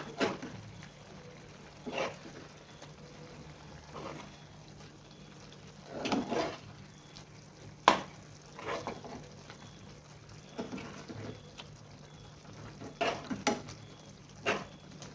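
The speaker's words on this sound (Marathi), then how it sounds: "ढाकण उघडून आम्ही ह्याला हलक्या हाताने मिक्स करून घेऊया।" Goan sardine ambot tik is gently stirred in a pot: soft, spaced clinks and scrapes of a spoon against the pot come every couple of seconds over a quiet simmer, with no talking.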